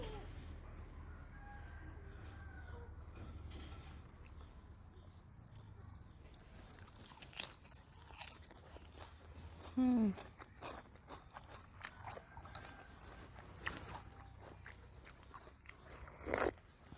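Someone eats wet rice wrapped in lettuce leaves, with close, soft crunching bites and chewing against a low, steady background hum.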